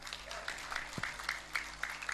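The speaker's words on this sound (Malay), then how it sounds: "Tepuk tangan untuk kalian semua" Rhythmic clapping from a crowd at an Indonesian Islamic sermon and sholawat gathering, even bursts of claps repeating about every quarter second at a steady moderate level with no voices over them.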